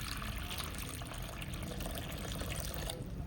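Water is poured into a pit in a construction mix at a building site, a steady rushing splash that holds at an even level throughout, faint and unbroken.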